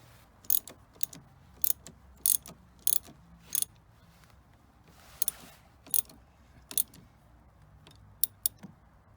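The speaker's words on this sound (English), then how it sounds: "Then tighten that nut up, being careful not to touch anything on the chassis." A nut being tightened on a VW T5 battery terminal, heard as a series of sharp, close metallic clicks in irregular bursts against a quiet background, with no speech.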